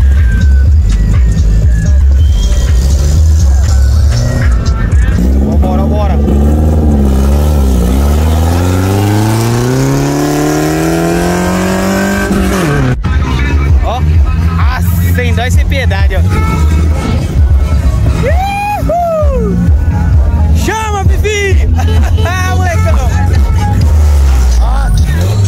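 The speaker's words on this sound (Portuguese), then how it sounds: "Acelerando bonito na jeta, hein, mano?" A lowered Volkswagen Saveiro's engine revs up repeatedly at a car meet, pitch climbing steeply and dropping, loud and close, with voices talking over it at times.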